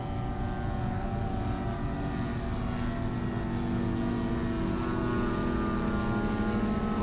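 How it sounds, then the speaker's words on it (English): Engine drone of a British Sopwith Pup, a white World War I biplane with a rotary engine, flying past; a steady loud propeller hum with layered tonal harmonics continues throughout without talk. "That would be the British, which is the white plane coming through here."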